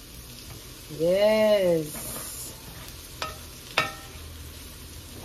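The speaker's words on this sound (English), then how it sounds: "We're gonna saute them. We're gonna get them a little soft." Butter sizzles softly and steadily in a pan while ingredients for a hot shrimp and crab dip sauté, with a brief hummed voice early on and a couple of sharp utensil clicks later.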